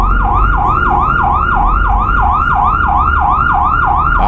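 A police siren wails in a truck-driving game on a Romanian map of a two-lane national road, a loud rapid yelping cycle repeating steadily over a low engine rumble.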